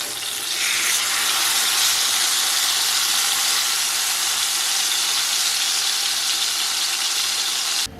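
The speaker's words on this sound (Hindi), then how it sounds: "चिकन को मैं फ्राई कर लूँगी।" Chicken frying in a pan gives a steady, loud, close sizzle that holds at an even, bright hiss for several seconds before cutting off abruptly, with no talking.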